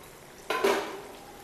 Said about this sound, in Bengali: ঢাকনাটা খুলে নিলাম।